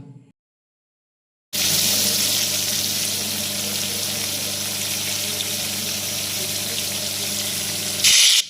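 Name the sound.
hilsa fish heads frying in mustard oil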